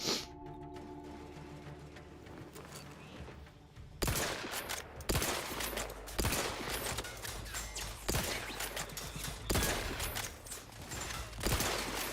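Rifle gunfire in a video game: bursts of shots crack through dense game noise from about four seconds on, coming in repeated volleys at close range after a quieter opening.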